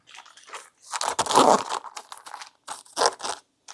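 Packaging for a Proove Gaming Sideswap mechanical keyboard is opened up close, with bursts of crinkling, tearing and rustling cardboard and plastic separated by short pauses, and no talking.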